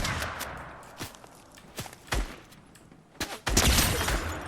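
Gunfire in the video game Fortnite: sharp, loud shots spaced irregularly, followed by a dense rapid burst of fire at the end.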